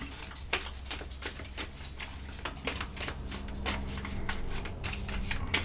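Oracle cards are shuffled by hand in a steady run of crisp riffling flicks and soft slaps, close and fairly quiet, continuing for several seconds with no voices.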